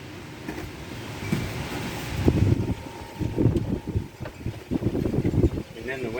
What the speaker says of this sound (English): And then the wind doesn't help.